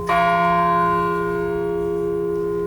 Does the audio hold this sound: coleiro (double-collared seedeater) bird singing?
no